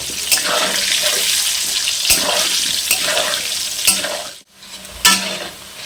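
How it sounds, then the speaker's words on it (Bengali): Potato pieces frying in oil with turmeric, chili powder and salt for a mutton curry, giving a steady broadband sizzle with periodic scraping stirs and a brief dip near the end, close and loud with no speech. "সামান্য পরিমাণে লঙ্কার গুঁড়ো আর পরিমাণ মতন লবণ দিয়ে দেবো। দিয়ে ভালো করে লাল লাল করে ভেজে নেব।"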